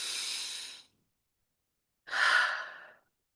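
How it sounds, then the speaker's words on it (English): Two long, deep breaths, an inhale and then an exhale, close and clear with a full second of silence between them and no talking. "Let's take a breath."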